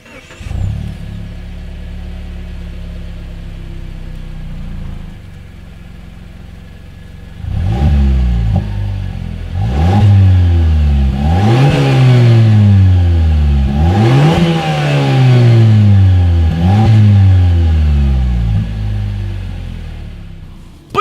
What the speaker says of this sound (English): Let's check out the way this new turbocharged engine sounds, and as always, here is that exhaust clip.